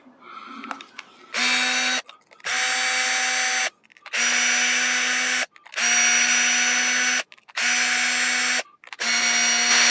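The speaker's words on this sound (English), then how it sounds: "I'm using a drill for your segment" A power drill whirs loudly in repeated bursts of a second or two, stopping briefly between each, close up, loosening screws on a Traxxas 2WD RC car transmission case.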